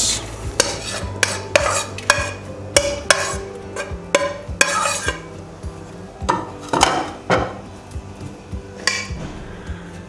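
Onions tipped into a pot already seasoned with salt, turmeric, chili and ground coriander for Lahori-style mutton paya, with repeated sharp metallic clanks and scrapes of a spoon against the pot over a low sizzle, loud and close.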